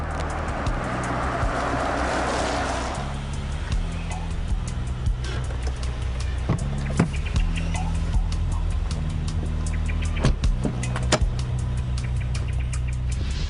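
A Rolls-Royce car drives along with a low, steady road and engine rumble, punctuated by intermittent clicks and knocks, fairly loud and close throughout.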